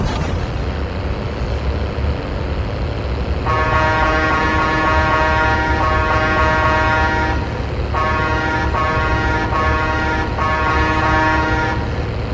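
A truck horn honks in long sustained blasts with brief breaks in Call of Duty Mobile battle royale, loud over a steady low engine rumble, with no voices.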